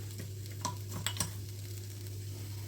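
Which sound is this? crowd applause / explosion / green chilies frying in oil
green chilies frying in oil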